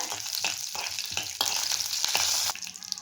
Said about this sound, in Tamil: இது கொஞ்சம் நம்ம வந்து வறுத்துக்கலாம் கொஞ்சம் லைட்டாக எண்ணெயில்.